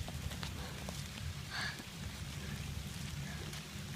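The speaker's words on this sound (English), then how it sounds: "This is what it looks like when it's raining 2 days straight." Steady rain falls for two days straight near a swollen riverside with wet grass, a faint, even hiss with soft scattered patter throughout and no voices.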